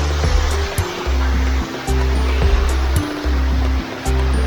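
Kinabuan Falls in Tanay, Rizal, pours as a steady, loud broadband rush of falling water, with low rumbling pulses rising and falling beneath it.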